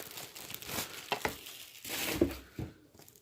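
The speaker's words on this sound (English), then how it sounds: "we'll unwrap the cord" Plastic packaging is peeled off a Shark cordless vacuum cleaner cord, giving quiet, irregular crinkles and tearing rustles.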